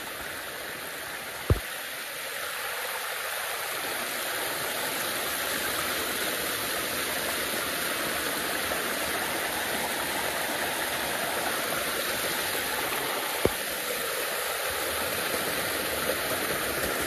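Mountain stream water rushing downhill in the countryside, a loud, steady broadband flow filling the whole stretch, with two brief sharp knocks and no speech.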